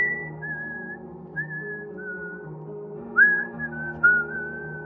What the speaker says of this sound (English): resuming his whistling